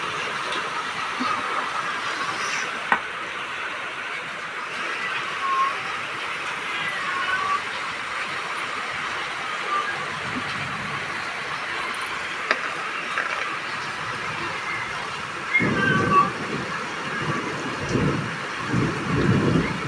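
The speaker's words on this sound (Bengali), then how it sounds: "হ্যাঁ বড় বড় শিল পড়ছে দুমদাম।" Large hailstones fall during a sudden storm in Kolkata, a steady roar of pelting ice with heavier, louder drumming impacts toward the end.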